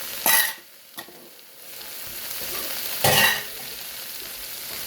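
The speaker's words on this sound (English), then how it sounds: "And basically, we'll stir fry it." Carrots, peppers, onion and scallion stir-fry in a pan for Szechuan beef: two loud bursts of sizzle as the food is tossed, with a softer steady frying hiss between them.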